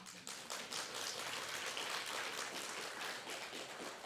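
Faint, dense applause fills the hall at a Buddhist Nirvana assembly at Joong-Ang Sangha University, a steady wash of many hands clapping with no voices over it.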